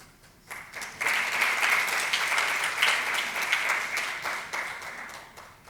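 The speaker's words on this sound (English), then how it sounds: "we're going to need a much louder round of applause" An audience at a sickle cell community conference breaks into sustained applause after a quiet opening, dense clapping that holds steady for several seconds before easing slightly toward the end.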